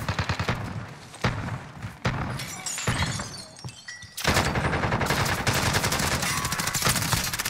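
Rapid automatic gunfire from Warzone on Rebirth Island in a mini royale match rattles loud and close in sustained bursts, briefly pausing before a dense, continuous stream of shots.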